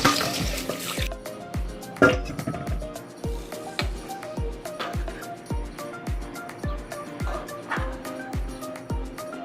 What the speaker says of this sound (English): wash it till it's water kind of runs clear